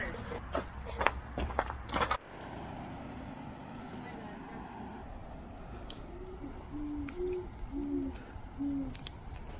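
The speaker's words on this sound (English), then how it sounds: "Owls." Owls hoot from under a highway bridge along a trail: a few soft, short tonal hoots repeat near the end over steady traffic rumble, after brief rustling and footsteps at the start.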